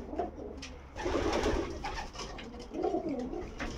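Pigeons coo steadily in a loft for young birds, their soft rolling calls rising and falling in close overlapping phrases with no talk.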